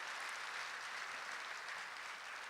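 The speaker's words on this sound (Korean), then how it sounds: "격려의 박수 한번 하겠습니다." Congregation at a Sunday church service applauding in encouragement, a steady dense wash of many hands clapping throughout, fairly even and sustained with no voices standing out.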